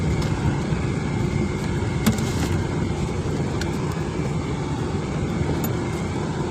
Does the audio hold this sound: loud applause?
no